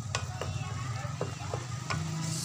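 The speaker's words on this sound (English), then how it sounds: "Malapit na maluto ang ating shrimps." Shrimp cooking in a pan with garlic and butter, a steady sizzle and fry running throughout with a few clinks of stirring scattered over it, close and moderately loud.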